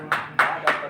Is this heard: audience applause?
yes